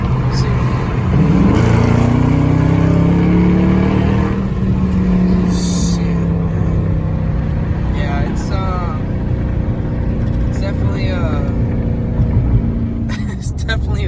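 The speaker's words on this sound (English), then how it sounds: "in this car, it's like you press sport mode, and the car just wakes up" A 2019 Dodge Charger R/T V8 engine in sport mode rumbles loudly from inside the cabin and rises in pitch as it revs, then settles into a steady drone with a faint hum behind it.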